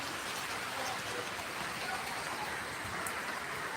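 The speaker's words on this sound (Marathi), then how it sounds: "खूप पाऊस सुरू आहे" Heavy monsoon-style rain pours down outside after days of continuous downpour, making a dense, unbroken roar of drops on the ground and other surfaces. The level stays loud and steady throughout.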